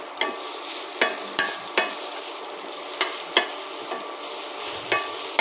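Grated coconut from half a coconut roasts in a pan for cashew curry. A spatula scrapes and stirs in a string of sharp, irregular strokes over a soft, continuous sizzle, close by and with no voices.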